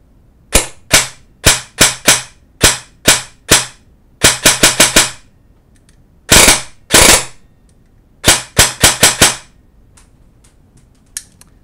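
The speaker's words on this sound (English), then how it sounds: "now you can hear what it sounds like without shooting BBs" G&P custom M4 airsoft rifle dry-firing without BBs: sharp, loud snapping shots close by, fired singly and in quick bursts of three to five, with short pauses between groups.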